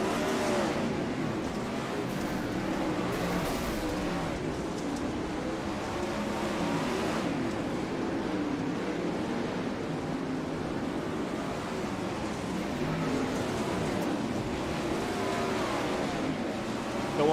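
A non-wing 410 sprint car engine on the dirt track at Fairbury, heard on board as a loud, steady roar that fills the whole stretch with no voices.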